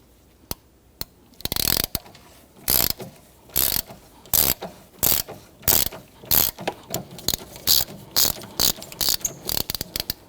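A hand ratchet loosens a bolt on a 2011-2015 Kia Sorento during a starter replacement, giving a long run of sharp, close clicking bursts in an uneven back-and-forth rhythm, with no talking.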